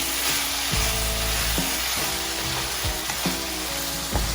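Honey chilli potatoes sizzle steadily in a pan while being stirred, with repeated scraping and clacking strokes of the spoon close by over the constant frying hiss.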